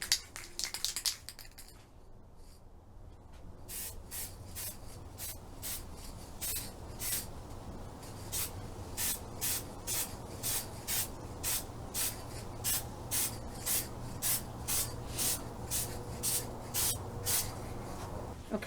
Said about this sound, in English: I'll just spray them with the looking glass spray paint